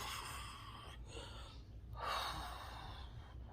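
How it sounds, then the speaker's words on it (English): A person catches their breath after talking, breathing heavily with audible gasping inhales and exhales close to the microphone, alone and fairly quiet. "Excuse me for the breathing, but I gotta catch my breath."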